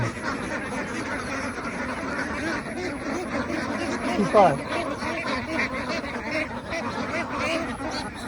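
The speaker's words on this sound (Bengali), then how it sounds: "হাঁসের মিছিল" A procession of ducks quacks in a noisy jumble along a village road over a constant outdoor rumble, with voices mixed into the din.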